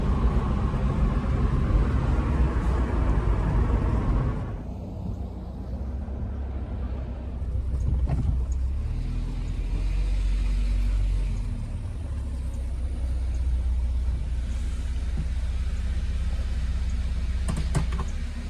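A 1994–1998 Saab 900 driving back to the garage after a transmission service, heard from inside with a steady loud engine and road rumble that dips briefly and then holds.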